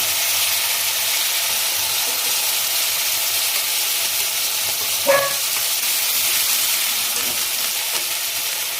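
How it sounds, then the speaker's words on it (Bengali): Dried chilli, turmeric, onion paste and ginger-garlic paste fry in hot oil with a steady, loud, close sizzle and hiss that runs throughout, broken by one brief clink. "শুকনো লঙ্কা ফোড়ন দিলাম, হলুদ দিচ্ছি, একটু পেঁয়াজ বাটা, আদা রসুনের বাটা"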